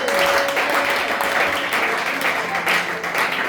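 A church congregation at a Sunday service claps and cheers together, a full, continuous wash of applause with voices mixed in and faint musical tones underneath, holding loud for the whole stretch.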